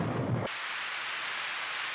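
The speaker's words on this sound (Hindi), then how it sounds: "उस शाम बादल ऐसे गरज रहे थे जैसे कोई अनजानी चेतावनी दे रहा है।" A short, deep thunder rumble in an evening storm in a cartoon village tale, loud for half a second and then giving way to a steady hiss of rain, with no talking.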